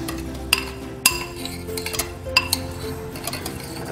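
Spoon mixing protein laddu ingredients in a bowl, with several sharp clinks and knocks against the bowl at irregular intervals over a soft steady scraping.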